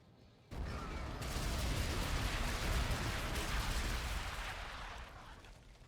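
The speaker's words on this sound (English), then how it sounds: "Bombardment incoming" An artillery bombardment in Call of Duty rolls in as a heavy, continuous roar of overlapping blasts and rumbling booms that stays loud and close for several seconds before easing slightly toward the end.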